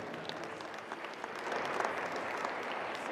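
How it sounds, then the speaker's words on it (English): Crowd applause for a Métis Nation representative introduced at a national track and field championship. Steady clapping fills the venue and swells slightly louder midway, with scattered sharper claps standing out. "Let's give her a big round of applause."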